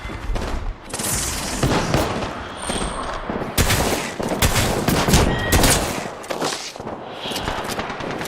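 Rapid bursts of automatic gunfire in a video game crackle close and loud, with dense volleys, short pauses, and heavy booming shots overlapping.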